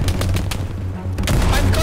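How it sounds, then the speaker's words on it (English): Gunfire in the World War II shooter Hell Let Loose, loud overlapping shots and rifle cracks in quick succession against a rumbling battlefield backdrop, with a voice shouting underneath. "Oh, we're taking fire."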